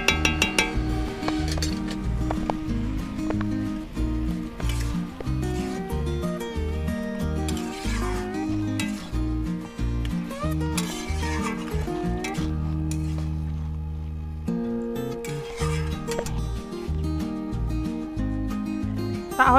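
Bottle gourd and prawns being stirred in a cooking pan, repeated metallic clinks and scrapes of a utensil against the pan, steady and close, with a faint musical background.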